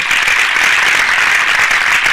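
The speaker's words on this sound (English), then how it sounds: "Can we give a round of applause to Jason for his raise?" A small group claps during a casual podcast, a dense, steady patter of hands close to the microphone, loud and unbroken throughout, with no talk over it.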